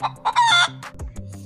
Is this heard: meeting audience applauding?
no